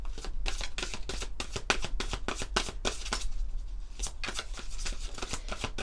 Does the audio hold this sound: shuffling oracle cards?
yes